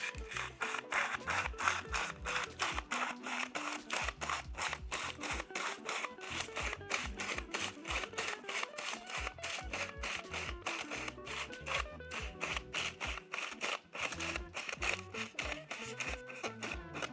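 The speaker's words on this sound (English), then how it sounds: "I just ratchet our reel like the 35mm." Film is ratcheted onto a developing reel at home, as with 120 and 35mm film. The plastic reel gives a rapid, regular series of clicks and clatters that runs without a break for many seconds, close and fairly quiet, with no talking.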